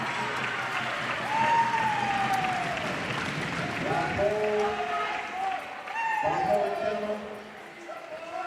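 Home crowd at an under-18 boys' cricket preliminary final applauds and cheers, steady and moderately distant, with a few whistles and calls on top and a commentator talking over it.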